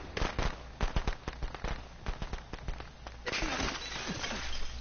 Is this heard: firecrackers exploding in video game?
yes